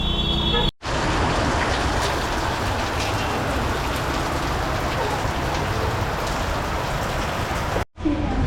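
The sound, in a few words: rain on street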